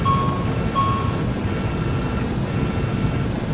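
An airplane takes off in the video game Microsoft Flight Simulator 2020, giving a steady, loud engine roar with a couple of short whistling tones near the start and no talking.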